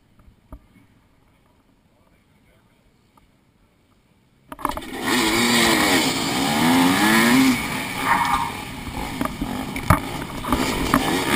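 Motorcycles in a 55+ class scrambler race start up after a quiet lead-in, then roar loudly and continuously as engines rev and climb through gears close by.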